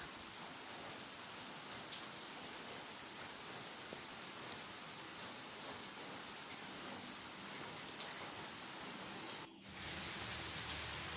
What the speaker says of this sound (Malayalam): മഴ നല്ല മഴയാണ് ഇവിടെ